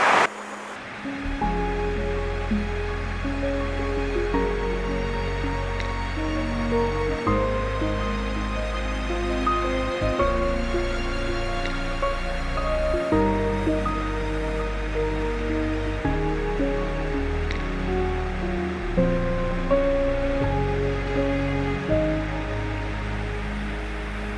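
Water pours over a weir on a river in Lathkill Dale, a steady, close broadband rush that holds level throughout with no breaks.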